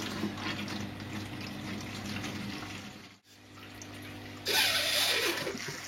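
Water running steadily from a hose into an aquarium tank for moving neocaridina shrimp, a constant close splashing flow that briefly cuts out before returning louder and brighter.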